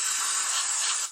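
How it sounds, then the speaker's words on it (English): A short, steady hiss of throttle body air intake cleaner sprayed from an aerosol can, one continuous burst lasting about a second, close and moderately loud, then cutting off abruptly. "You just spray it in there and clean it off."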